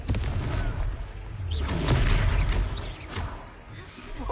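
A Confringo blasting spell bursts in Hogwarts Legacy, a loud booming whoosh with rolling crashes and rumbles that swell and fade over a few seconds amid battle noise.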